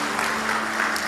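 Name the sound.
church congregation applauding for God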